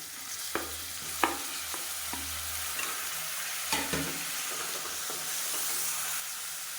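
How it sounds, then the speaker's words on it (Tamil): Sliced onions with mint and coriander leaves sauté in a pan, a gentle ongoing sizzle marked by a few sharp clinks and scrapes of stirring, close and fairly quiet, no speech. "இப்போ வெங்காயம் நல்லா வதங்கிடுச்சு"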